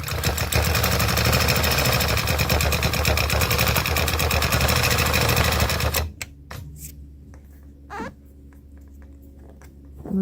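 A Gammill longarm quilting machine stitching circle ruler work runs in a steady, loud, rapid needle rhythm for about six seconds, then stops, leaving faint scattered clicks and handling noises.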